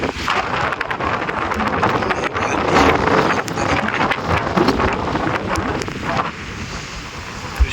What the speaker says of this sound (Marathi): एवढा वारा मजबूत वारा आहे